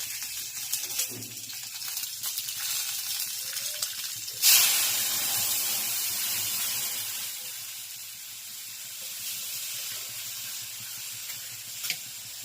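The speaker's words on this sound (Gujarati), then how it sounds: "અને કઢીનો વઘાર" Mustard seeds, cumin and fenugreek powder hitting hot oil to temper kadhi, a sudden loud sizzling burst that settles into a steady hiss and crackle, close up, with no speech.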